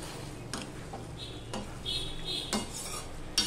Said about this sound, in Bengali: এবার আমি ভালো করে ফোড়নের সাথে সমস্ত মাংসটা আমি মিশিয়ে কষাতে থাকবো।